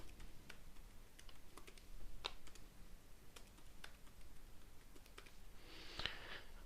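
Keys on a computer keyboard are tapped to enter a password, a sparse series of quiet, separate clicks spaced irregularly over several seconds, faint against a soft room hiss with no speech.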